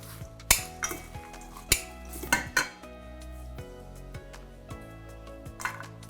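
A kale and brown rice salad with feta being tossed in a bowl: a run of sharp clinks and scrapes of utensils against the dish, irregular and close, with softer shuffling of leaves and grains in between.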